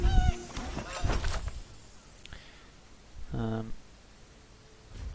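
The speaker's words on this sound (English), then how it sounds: "Honkers the goose." A cartoonish goose honk from the creature card Honkers in MTG Arena, a short burst of several quick stacked honks in the middle, following louder game clatter and sharp effect sounds at the start.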